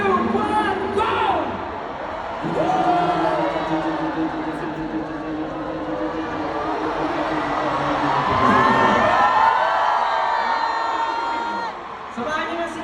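A large concert crowd at the sixth anniversary event shouts, cheers and whoops loudly and continuously, with a dense roar swelling in waves and a voice calling out over the noise.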